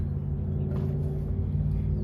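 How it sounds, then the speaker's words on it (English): A 1973 Pontiac Firebird engine, pulled from storage after more than twenty years, runs loud and close with a deep, steady rumble and only a slight lift in pitch, with no sharp revving peaks. "Let's rev her up a little bit and see if she holds together."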